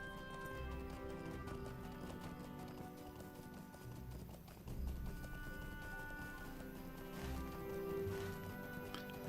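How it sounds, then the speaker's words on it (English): Rhythmic hoof clip-clop from a horse being ridden in the Lord of the Rings Online game, steady and quiet beneath game music and ambience. "let's just get on the horse then"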